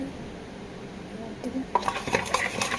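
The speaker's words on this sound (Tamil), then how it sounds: "நல்லா மிக்ஸ் பண்ணுங்க" Homemade slime stirred and mixed in a container: a quiet start, then soft clicking, squelching scrapes that grow busier toward the end. Close by, with no talking.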